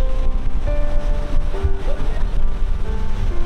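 Sea waves break on the shore at Karachi's Sea View beach, a loud continuous wash of surf mixed with wind buffeting the microphone.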